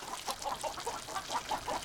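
Chickens cluck in a quick, repeated series of short calls, fairly faint and close together.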